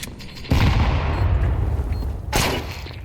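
Sustained gunfire bursts and a loud grenade blast rumble through a Counter-Strike 2 round, heavy low-end booms starting abruptly and a second sharp volley near the end, with no talking.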